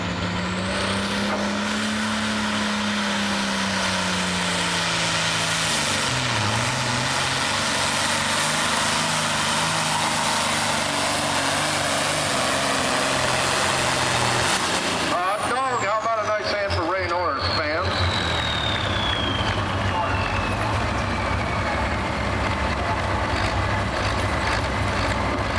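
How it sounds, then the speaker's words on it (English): A John Deere pulling tractor roars down the track at a truck and tractor pull, a loud sustained engine howl that rises then drops, with announcer talk and crowd noise over it. "Here comes the Pack and Heat John Deere."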